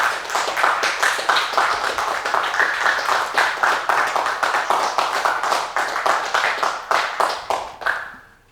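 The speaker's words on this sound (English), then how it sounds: "So first, applause for what we've had tonight." An audience at an evening talk on votes for women gives sustained applause, a dense rhythmic patter of many hands clapping at steady loudness that fades out near the end.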